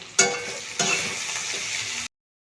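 Sliced potatoes with chopped onion and torn green chillies fry in a pan. A loud, steady sizzle starts with a sharp burst as ingredients hit the oil, swells again partway through, then cuts off abruptly.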